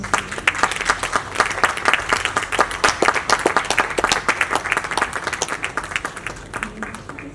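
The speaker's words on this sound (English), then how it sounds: "Please help me bring them with a round of applause." Audience applause at an HR conference in Kumasi, a dense run of individual claps ringing out for the speakers, steady and fairly close for about seven seconds, with some voices mixed in.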